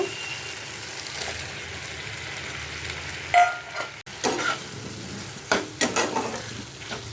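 Butter chicken with tomato paste, butter and spices sizzles steadily in a pan while a spoon stirs it, with a few sharper scraping clicks toward the end; no talking.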